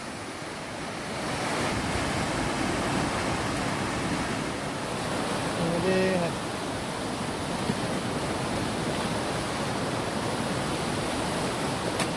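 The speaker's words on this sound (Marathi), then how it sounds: "इथे अशी नर्मदा नदी वाहते" A loud, steady roar of the Narmada River pouring over Dhuandhar waterfall, continuous and unbroken throughout, with no voices.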